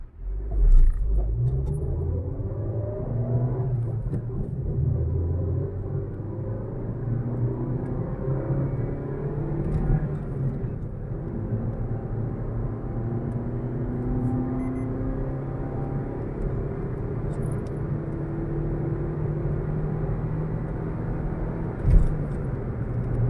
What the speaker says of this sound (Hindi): आप एक बार ट्राई कर लेते हैं कि 0 to 100 कितना क्या टाइम लेती है मारुति इग्निस